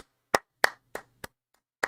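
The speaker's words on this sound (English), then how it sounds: "I applaud my opponent for that." Five sharp hand claps, loud and close, spaced unevenly at about one-third-second intervals with a gap before the last, with no talk.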